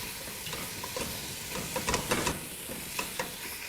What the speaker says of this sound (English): I'm going to add my meat in batches. I'm going to mash it with this plastic masher.